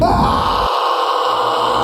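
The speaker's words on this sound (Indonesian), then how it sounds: "Kenapa dia di sana tergeletak seperti itu, Cel? Kayak kesakitan. Kasihan. Dia teriak" A video game character groans and wails in pain, loud and strained, a short cry that cuts off abruptly partway through.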